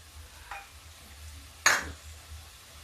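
Tomatoes dropped into a hot pan of cooking turnip curry set off one sharp, close sizzling burst that fades into a quiet background fry, with a faint clink just before.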